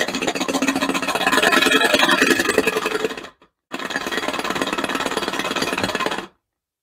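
Mechanical RC engine sound generator, a vibrating can holding three steel balls, giving a loud continuous buzzing rattle like a small engine that stops briefly, restarts and then cuts off.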